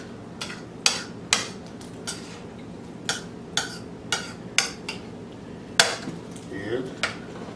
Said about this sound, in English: Now you just gotta mix it together.